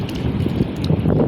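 Wind buffets a microphone outdoors on a rocky shore during a fishing trip, a loud, steady rumbling gust noise that fills the whole short stretch with no voices.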